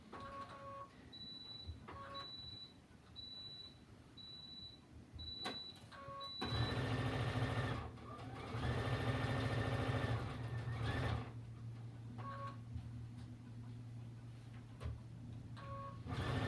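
A sewing machine stitches a quilt with a 1/4 inch foot in two sustained whirring runs of rapid mechanical stitching, close and moderate. Quieter stretches between them carry intermittent electronic beeps and faint handling sounds.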